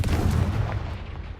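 A Confringo fire spell is cast in the Hogwarts Legacy video game, giving a loud, booming blast with a deep rumbling low end that rolls on steadily for over a second, with no voices.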